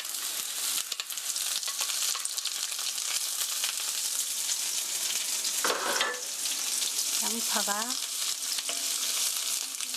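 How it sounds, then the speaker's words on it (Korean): Sliced onions stir-frying in hot oil for home-style curry rice, a steady close sizzle running throughout with occasional scraping stirs; a brief faint voice surfaces near the end. "양파가 브라운 갈색, 약간 갈색이 날 때까지 볶아주세요."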